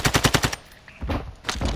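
Rapid automatic gunfire in the Call of Duty video game, a loud burst of evenly spaced shots, a brief pause, then a second close burst.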